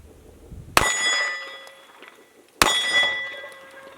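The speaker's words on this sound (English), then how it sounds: "I'm going to shoot that gong from 40 feet." Two sharp metallic clangs about two seconds apart as 9mm bullets from a Smith and Wesson M20 pistol hit a steel gong from 40 feet, each ringing out with a long, bright decay.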